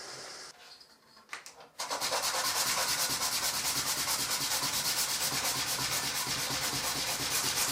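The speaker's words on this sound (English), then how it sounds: "So I hand rub them now to get rid of those scratch marks." Hand rubbing of knife scales to clear away 80-grit sanding scratches, a steady rhythmic abrasive rubbing close up that starts after a couple of quiet seconds with faint handling and continues evenly to the end.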